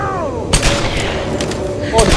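Gunfire from the 2013 video game Tomb Raider. Two sharp, punchy shots land about a second and a half apart over a tonal game soundscape.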